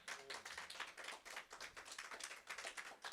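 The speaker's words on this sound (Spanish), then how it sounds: "¿Puede darle palmas fuertes al Señor?" A church congregation claps loudly in steady rhythmic bursts, many hands together filling the space, with no voices over it.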